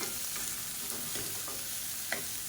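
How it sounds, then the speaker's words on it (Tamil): Chopped bottle gourd sautés in a pan, with a continuous sizzle and soft repeated scrapes and taps of the spatula, close and steady throughout. "இப்போ சொரக்காய் வேகிற அளவுக்கு நல்லா வதக்கணும்."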